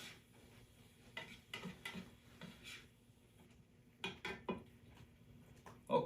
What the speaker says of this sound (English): my eggplant and garlic is sauteing up real nice